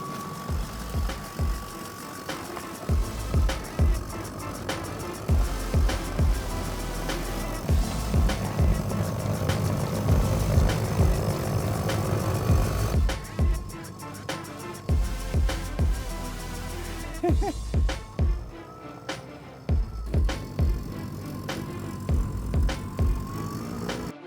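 A Toro battery-powered snow blower clears snow with a steady, loud motor whir close by. Sharp bursts of scraping and thumping break in throughout, then ease off near the end.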